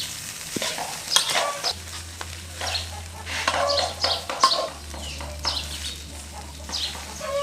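Fried rice being stir-fried in a pan, with uneven scraping and clattering strokes of a spatula against metal over a faint sizzle and a steady low hum from the stove.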